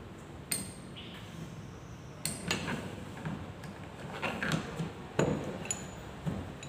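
A hammer drives a pipe to seat the output-shaft bearing of a Toyota Kijang 4-speed manual transmission, giving several sharp metallic taps at irregular intervals, moderately near and with no talk.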